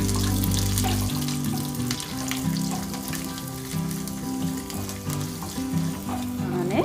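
Dried red chillies and garlic sauté in oil for a Gujarati sweet-and-sour tomato chutney, giving a steady close sizzle with scraping stirs and a low hum underneath, and no talking.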